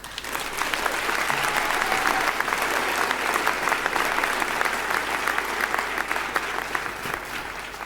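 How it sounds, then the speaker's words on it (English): A large audience at a University of Johannesburg graduation ceremony applauds with sustained, dense clapping that holds steady for several seconds before easing slightly at the end. "I think we should give them another round of applause."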